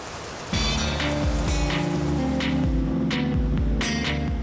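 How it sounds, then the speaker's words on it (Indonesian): Rain falls steadily outdoors on a trail leading to the Curug Tilu waterfall, a dense continuous hiss with a low throbbing hum running underneath. "Jadi kita harus nunggu hujan dulu nih sampai hujannya reda"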